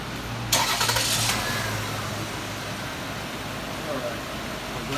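A 2001 Toyota Camry with a replaced alternator cranks briefly and catches, then settles into a steady idle that continues to the end, with a voice speaking faintly in the background.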